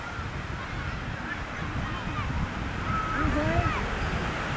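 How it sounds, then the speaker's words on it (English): Geese or gulls calling and honking in a flock gathered on a fine-sand Lake Ontario beach, several overlapping calls rising toward the end over steady surf and wind noise. "birds. They're congregating just in this one area right there."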